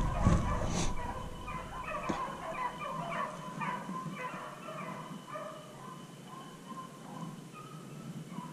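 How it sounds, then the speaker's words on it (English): Beagle hounds bay as they chase a rabbit back across an open field, a ragged chorus of overlapping howls and yelps that carries from a moderate distance over steady outdoor background. "Here come the dogs, they're bringing him back."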